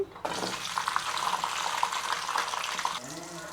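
Green chilies dropped into hot oil in a pan give a sudden, steady, loud crackling sizzle that runs nearly unbroken for a few seconds before easing off.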